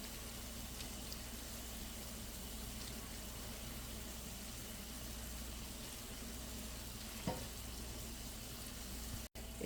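Chhana kalo jam sweets fry gently in oil, a soft continuous sizzle with faint stirring movements, one brief knock near the end and no voices.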